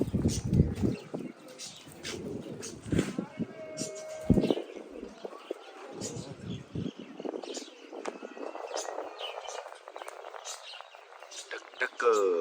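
Soft pigeon coos and scattered chirps outdoors, mixed with rustling and background noise, moderately quiet.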